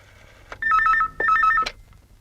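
A telephone rings in two bursts of warbling electronic tone, each about half a second, close and clear against a quiet background, in a Bollywood horror thriller film.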